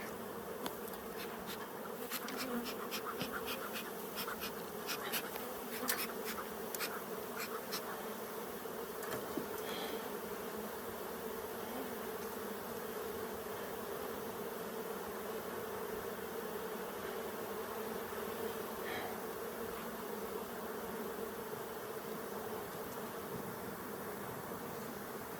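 Agitated honey bees swarm around an open hive, a steady close buzzing drone with individual bees zipping past near the start.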